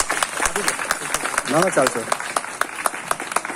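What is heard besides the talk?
audience applauding the school principals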